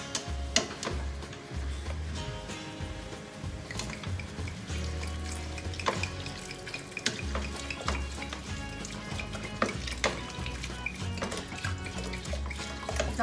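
A whole bottle of wine poured over softened onions and vegetables in a pan for beef lasagne, a quiet steady sizzle and bubbling with liquid splashing and occasional utensil clinks, no voices.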